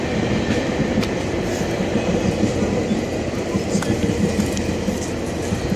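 A GO commuter train passes through a station, a steady loud rumble of rail traffic sustained throughout with faint clicking along the tracks.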